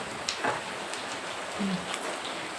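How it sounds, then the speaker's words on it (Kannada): Steady patter of rain on a surface, a constant soft hiss with occasional louder drops. "ಈ ಥರ ಮಳೆ ಎಲ್ಲ ಕಡೆನೂ ಇದೆ ಇಲ್ಲೂ ಇದೆ"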